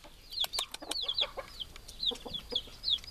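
Chickens in a henhouse beside a permaculture vegetable garden, a quiet stream of soft clucks and short rising chirps repeating close by at low volume.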